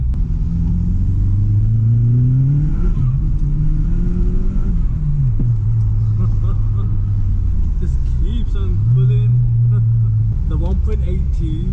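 An Audi S3 with a 1.8T engine drives along, its engine drone rising and falling through gear changes from inside the cabin, while a person talks over it.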